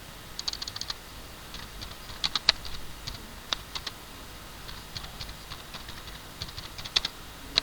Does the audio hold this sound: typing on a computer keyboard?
yes